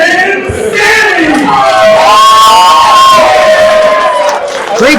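A wrestling show crowd roars, cheers and shouts loudly and continuously, close and filling the space, with individual yells and voices rising out of the din.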